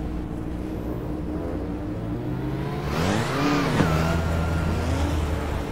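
A high-pitched Formula 1 car engine in a racing video game whines past, rising then dropping sharply in pitch as it zooms by, over a steady background drone.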